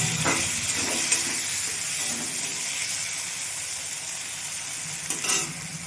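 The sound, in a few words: tomatoes frying in oil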